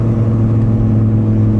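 Audi TT RS or RS3 with a CTS turbo intake idles in a steady, low, droning rumble, heard close up from the engine bay with no revving.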